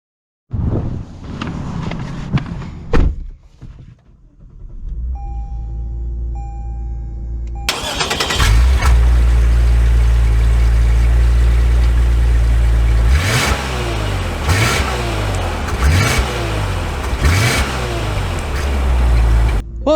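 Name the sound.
2022 Lexus RC 350 F Sport engine starting and driving off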